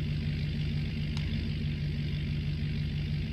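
A Dodge pickup truck engine in Farming Simulator 19 runs at a steady idle, a continuous low droning hum with a single faint tick partway through and no voices.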